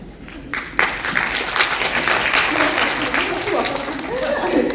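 Audience applause filling a cinema after a film screening at a fantastic film festival, dense steady clapping rising sharply and sustained throughout, with a few indistinct voices mixed in.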